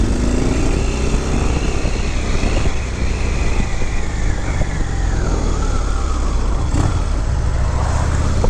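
2016 Harley-Davidson FXDLS Dyna S motorcycle ridden hard on a test ride, a loud continuous engine roar with rising and falling revs and heavy wind rush, no voices.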